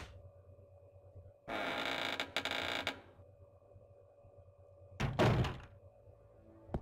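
A door opening in the survival horror game Resident Evil Code Veronica, heard as two bursts of dull clunking and creaking, one long and one short, over a quiet low ambient hum with no talk.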